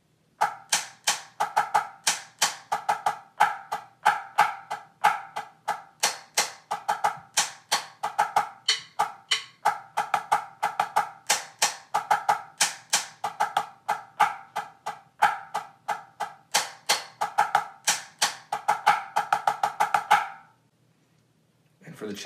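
Drumsticks play a full rudiment selection slowly on a practice pad, a long run of crisp close taps with doubles and accents over about twenty seconds before stopping abruptly.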